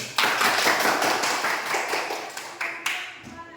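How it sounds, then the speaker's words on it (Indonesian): A school class clapping hands in a classroom lesson: steady, fairly loud rhythmic clapping from many pupils, ending in a few sharper separate claps. "Tepuk tangan dulu."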